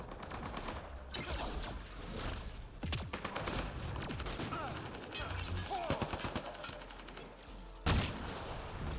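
Rapid bursts of automatic gunfire from a security turret in the video game Mass Effect Andromeda, with dense volleys, sharp individual shots and a loud impact near the end, mixed with game effects.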